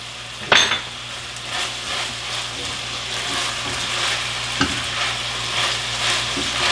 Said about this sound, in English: I want to stir in my pepper, because you can't have sloppy joes without green pepper